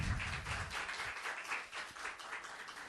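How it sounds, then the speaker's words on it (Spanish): Church congregation clapping in praise during a sermon, a steady wash of applause heard faint and somewhat distant, with no talk over it. "Vamos a darle un aplauso al Señor por eso."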